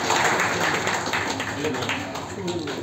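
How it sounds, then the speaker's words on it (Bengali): Loud, dense applause from an audience at a madrasa board exam award ceremony in Murshidabad, sustained clapping close by for the whole stretch. "সবাই জোরে হাততালি।"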